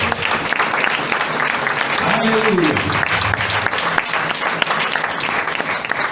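Congregation in a Spanish-language church service gives a loud, sustained round of applause after a pastor's sermon line, with a voice shouting praise over the clapping throughout.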